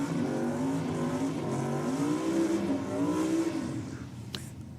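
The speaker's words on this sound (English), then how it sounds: "We hear the lazy start to the burnout, then all of a sudden you hear the RPM start to climb" A Peugeot 308 drag car holds a steady low engine drone during a burnout, then its revs climb in a rising sweep, heard from a distance with a brief sharp crack near the end.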